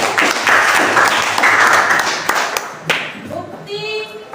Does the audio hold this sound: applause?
yes